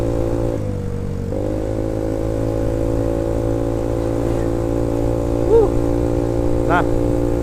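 Yamaha Mio scooter with a 190cc bore-up engine, 28 mm carburetor and stock exhaust idling with a steady low hum throughout, while someone talks over it.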